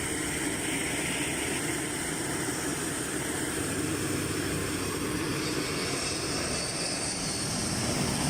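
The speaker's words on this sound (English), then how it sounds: "This plane aborted the landing late, pulling up and retracting the gear with almost no altitude to spare." An airplane aborting its landing late, pulling up with almost no altitude to spare and retracting its gear, gives a loud, steady engine roar that stays constant throughout with no voices.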